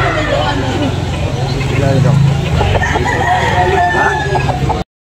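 A rooster crows loudly nearby at a poultry market in Carbon, Cebu, its call rising over background chatter and other fowl clucking, then the sound cuts off abruptly.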